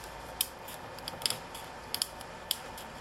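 Scissors snipping through stiff, glue-hardened line for a dollhouse miniature Moses basket: several sharp, close metallic clips at uneven intervals over a quiet background.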